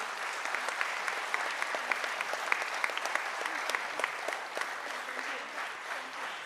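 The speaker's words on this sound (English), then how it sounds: "she definitely deserves a bigger round of applause" Audience applause after a Bharatanatyam classical Indian dance performance, a dense sustained clapping from many people with some sharper individual claps standing out, tapering slightly toward the end.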